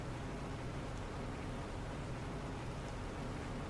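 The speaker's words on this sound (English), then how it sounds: "Normally you wouldn't be in the rainy, like the just rain no water stage" Steady rain falls in the terraforming video game The Planet Crafter, a constant, even hiss of rainfall with no breaks or voices.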